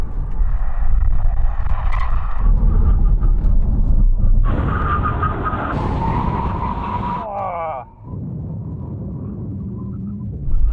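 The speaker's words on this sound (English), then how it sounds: "Full emergency stop." An electric car brakes hard in a full emergency stop from 100 mph, a loud rumbling roar with tyre skidding that fades to a lower idle rumble, with voices over it.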